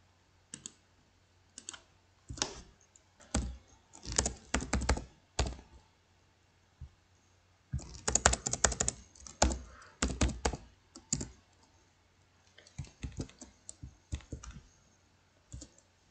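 Keystrokes clatter on a computer keyboard while an HTML form is coded, coming in quick bursts of clicks separated by short pauses, close and fairly quiet with no voice.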